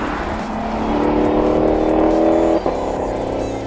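A 2017 Lexus LC 500's naturally aspirated 5-litre V8 holds a loud, steady rev for a couple of seconds, cuts off briefly, then settles back into a lower drone, with no talking.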